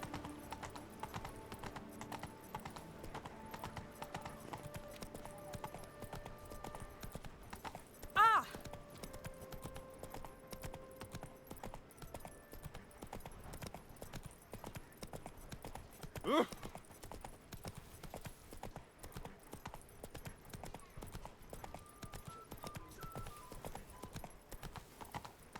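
Steady clip-clop of the horse Roach's hooves at a trot in The Witcher 3, running continuously with a couple of brief louder knocks, over faint game ambience and music.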